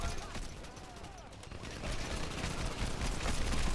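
Dense bursts of gunfire from the video game Crackdown keep firing throughout, with clustered rapid shots rising in intensity toward the end under a busy game mix.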